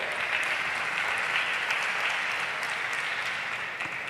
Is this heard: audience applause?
yes